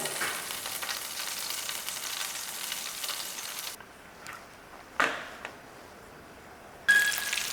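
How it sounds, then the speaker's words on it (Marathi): Fish frying in a pan of oil, a soft steady sizzle that drops away partway through, followed by a few scattered clinks and a bright metallic ping near the end. "थोडंसं आणखीन कुक करूया हा मासा"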